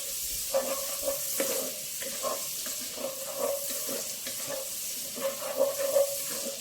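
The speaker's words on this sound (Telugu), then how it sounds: "ఉల్లిపాయ కొంచెం వేగాలండి." Onions frying in a pan for a mushroom mixed vegetable curry, with a steady soft sizzle and repeated scraping stirs of a spoon across the pan throughout.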